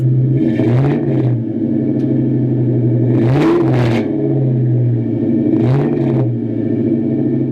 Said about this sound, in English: But I'll give you a little rev real quick.